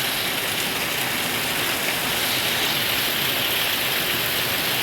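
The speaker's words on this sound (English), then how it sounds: "This is a good rain. We needed this." Steady rain falls outdoors in a dense, unbroken hiss, loud and constant with no voices or other sounds over it.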